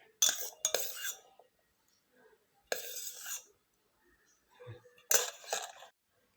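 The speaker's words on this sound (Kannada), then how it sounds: "ಇವಾಗ ಇದಕ್ಕೆ ನಾನು ರಾತ್ರಿ ನೆನೆಸಿ ಬೇಯಿಸ್ಕೊಂಡಿರೋ ಬಾರ್ಲಿ ಅಕ್ಕಿನ ಮೂರು ಚಮಚ ಹಾಕೋತೀನಿ" Spoon clinks against a glass as three scoops of soaked, cooked barley go into a drink, in three separate bursts of scraping and tapping with quiet gaps between, close and fairly soft.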